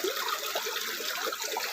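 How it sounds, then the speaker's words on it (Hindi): Water from a dam flows out through a channel toward canals, a steady close gushing and splashing with no pauses. "यहाँ से फ्लो ये दिया जाता है और ये पानी सीधे सीधे नहरों को चला जाता है"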